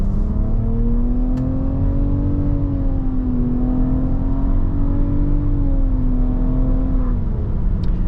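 A 2022 Nissan Rogue's 1.5-litre turbocharged three-cylinder pulls in sport mode onto a highway, a smooth, steady drone from inside the cabin that rises gently in pitch, with no voices.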